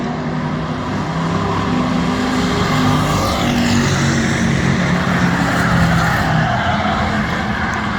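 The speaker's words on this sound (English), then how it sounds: "Hearing some tire scrubbing still." Race cars practicing at Bristol Motor Speedway, a dense continuous roar of engines with tire scrubbing mixed in, loud and steady throughout, no talking.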